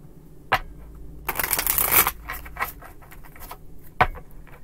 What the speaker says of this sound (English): two more shuffles and we'll have it.